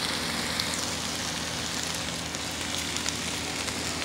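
Food sizzling over a high fire on a propane cooking pit, a steady dense crackling hiss that runs evenly and fairly loud throughout, with no talking.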